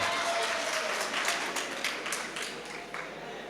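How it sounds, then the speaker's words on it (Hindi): An audience at a shayari poetry recital in a hall claps in dense, sustained applause that stays fairly loud throughout. "एक बार जोरदार तालियां बजा दीजिए।"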